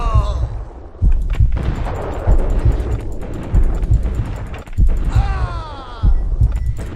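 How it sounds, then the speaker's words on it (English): Explosive booms in the Max Payne video game, a series of heavy low thumps recurring about once a second under wind-like rumble, with faint speech. "Oh, grenade."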